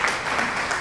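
A short burst of steady crowd-style applause, dense and even throughout, with no voices over it.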